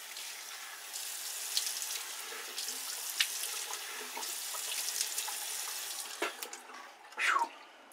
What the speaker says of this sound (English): Let me rinse my face.